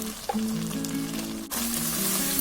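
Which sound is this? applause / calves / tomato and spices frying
tomato and spices frying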